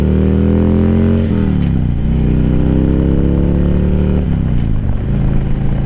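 Harley-Davidson Street motorcycle accelerating hard, loud and close, its engine note climbing through gears with two brief dips at the shifts before rising again.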